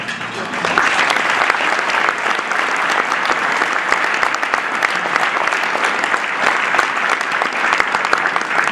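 A room of diners at a survivor's dinner applauds for several seconds, dense, even clapping from many hands that swells in quickly and holds at a loud, steady level.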